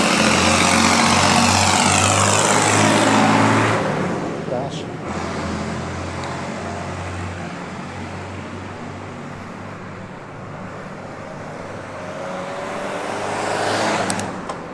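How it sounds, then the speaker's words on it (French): Cars pass one after another on a busy two-lane departmental road, the D910 near Sorigny, with a steady roar swelling and fading as vehicles go by close to a narrow roadside cycle lane, heard from the roadside. "Et il y a des voitures."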